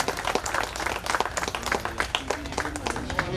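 An audience claps at a temple gateway opening ceremony, with scattered, fairly faint hand claps continuing steadily through the moment.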